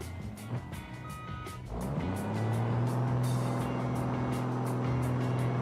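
A truck engine in the driving game BeamNG idles roughly, then revs up into a loud, steady, deep drone that holds near and constant. A faint hiss and clatter sits beneath it, and no one speaks.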